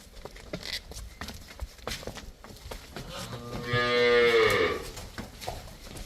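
A cow lets out one long, loud moo near the middle, drawn out and falling in pitch, amid background farm clatter and shuffling.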